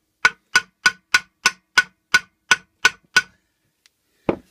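Eleven sharp metal hammer blows ring out in a steady, even rhythm while a Honda GXV160 lawn mower engine crankshaft is struck, each strike close and loud, followed by a pause, a tiny tap and one more hit.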